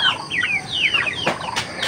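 A chicken being caught flaps its wings in several quick, close bursts, mixed with short clucks and squawks, with no talking.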